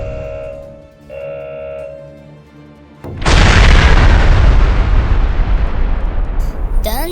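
A huge boom from the simulated main guns of the modernized battleship Yamato erupts suddenly and stays loud, rolling on as a sustained roar of blast and shell impact after a quieter tonal stretch.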